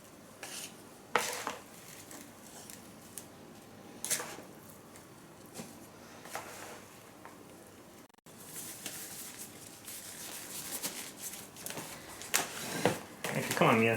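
A salami meat mixture with starter culture being mixed in a bowl, with irregular close clinks, scrapes and soft squelching thuds that come and go as people talk nearby.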